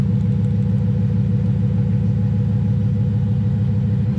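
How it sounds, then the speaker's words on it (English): A 750-horsepower VMP supercharged Ford F-150 engine rumbles loud and steady, a deep pulsing idle close by with no clear rise in pitch. "Here, I'll give it a rev."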